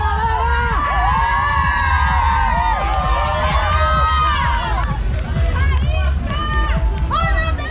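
Roadside spectators at the Rio marathon 5K cheer and shout as runners pass, a loud close mix of whoops, yells and children's voices with excited talk throughout.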